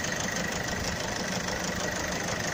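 A Citroën C4 engine runs after a full overhaul, idling with a steady, even hum and light mechanical knock, heard up close and alone at low level.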